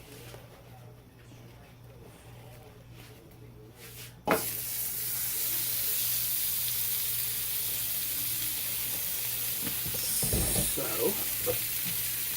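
Pork tenderloin sears in a pan of hot olive oil, a sudden loud steady sizzle bursting in after a quiet start with a clunk, continuing close and dense with brief clatter and a short spoken word early on.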